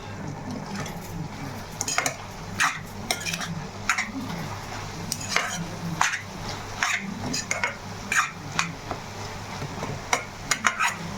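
Chicken keema pulao is stirred and fried in a pan, with repeated metallic scrapes and clinks of a spatula over a low, steady sizzle, close and without talk.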